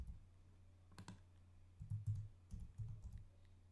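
Someone types the word admin for a website login on a computer keyboard, with a few soft clustered keystroke clicks, close and quiet, over low background hum.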